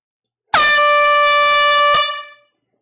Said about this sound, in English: Here comes the air horn. Hope everybody's ready.